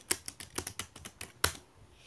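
Typing on an external computer keyboard: about a dozen crisp, close key clicks in an uneven rhythm, the last one a harder stroke, with no talk.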